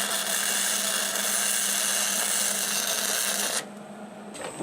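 Welding on the metal tire rim of a Kubota L3301 tractor with a new welder, a steady close crackling hiss that runs continuously for several seconds and then drops to a quieter buzz near the end; no talking.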